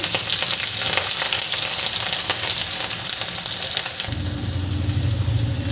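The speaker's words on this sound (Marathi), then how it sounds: "इथे मी मिरची घालत आहे आणि कांदा घालायचा आहे." Green chillies and onion hitting hot oil with garlic in a pan, a loud dense sizzle that fills the clip and shifts slightly in tone partway through, close and without talk.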